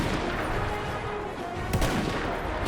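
Dense, continuous gunfire and explosive bursts from a Battlefield 1 battle, with a sharp louder blast about two thirds through the steady roar of combat.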